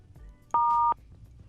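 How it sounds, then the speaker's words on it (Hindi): A single loud electronic beep tone on a Hindi phone contest line, a steady two-pitch tone lasting under half a second, standing alone against a quiet background. "बीप के बाद हैश दबाए। बीप।"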